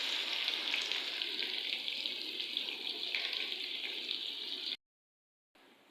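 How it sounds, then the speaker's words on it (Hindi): Chopped medium-size onions fry in hot ghee in a kadai, giving a steady, close, even sizzle that cuts off abruptly near the end before a faint tail resumes. "इसी गर्म घी के अंदर मैं डालने लगी हूँ प्याज"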